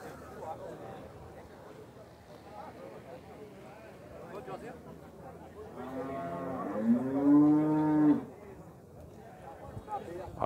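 Cattle at a livestock fair in Puxinanã, Paraíba, low with a loud, drawn-out moo about two seconds long rising out of a murmur of crowd chatter and background voices.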